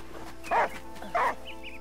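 Two short barks from a dog in the video game Last Day of June, moderately close and separated by a pause, over a quiet steady game backdrop.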